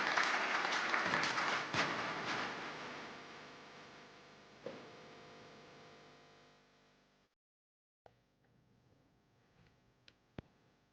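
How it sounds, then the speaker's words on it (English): A round of applause from a conference audience at a React developer event in Miami, strong at first and thinning out over several seconds, then a brief silence followed by a few faint clicks and taps. "Please give a huge round of applause for Aaron Boodman."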